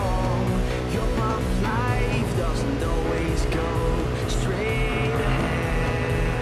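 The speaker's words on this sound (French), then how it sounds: "Enfin, le bruit de sa moto est bizarre aussi." Motorcycle engines racing in the Ride 2 video game, a steady loud engine drone that rises and falls with revving pitch sweeps throughout, under constant game sound.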